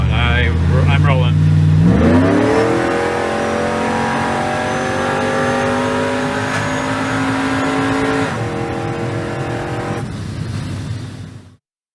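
1996 LT1 V8 Camaro/Firebird F-body with an SLP setup and TorqHead fitted, revving from idle then pulling hard at wide open throttle, a loud steady engine roar that climbs and holds high for about ten seconds before easing off.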